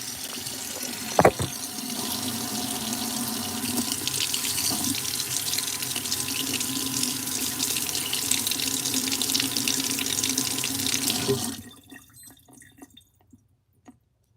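Tap water runs steadily and strongly into a sink while an old Timex Ironman watch is rinsed clean, then shuts off abruptly near the end, leaving a few faint drips and quiet.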